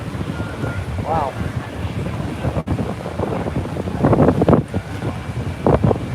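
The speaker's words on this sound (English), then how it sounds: "Sorry about the wind." Wind buffets the microphone outdoors at Universal Studios on a morning walk as a thunderstorm approaches, loud gusty rumbling throughout with a few stronger bursts, and speech-like sounds faintly beneath it.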